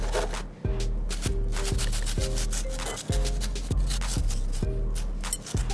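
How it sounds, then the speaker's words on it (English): Cauliflower being grated by hand into cauliflower rice, a steady run of close rasping strokes, about eight firm scrapes in a regular rhythm, loud and alone with no talk. "to make the cauliflower rice, we are just gonna grate"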